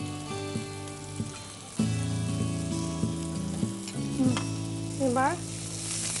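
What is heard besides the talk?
onion being stirred and frying in a pan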